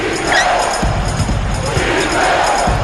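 Home arena crowd in the NBA 2K12 basketball video game on Xbox 360 at a Mavericks game, a steady loud crowd roar with a few thuds and chatter underneath.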